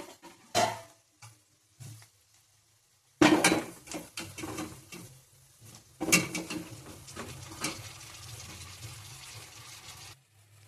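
Cauliflower florets go into a pan of potatoes cooking on a home stove. Scattered clanks and thuds of vegetables and utensil against the pan are followed by a longer, busier stretch of clattering and rustling, moderately close.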